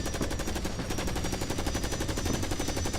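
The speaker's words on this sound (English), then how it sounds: "Do a strafing run." Rapid sustained machine-gun fire from a strafing run on turrets in Carrier Command: Gaea Mission, a dense, loud, evenly pulsing burst of shots lasting several seconds with no gaps and no voices.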